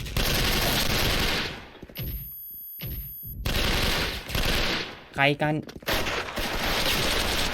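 Rapid bursts of automatic gunfire from a video game, loud and close, broken by brief pauses and a short spoken exclamation.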